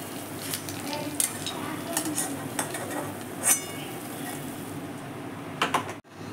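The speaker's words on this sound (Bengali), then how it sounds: "আস্তে আস্তে সমস্ত কোপ্তাগুলো ভেজে নেব।" Chhana (cottage cheese) koftas frying in oil make a steady, faint sizzle, broken by occasional light clinks of a utensil against the pan and a brief bump near the end.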